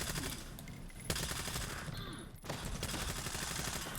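Rapid SMG bursts in the shooter game Stalker 2, loud and close, with short gaps between volleys and no talking.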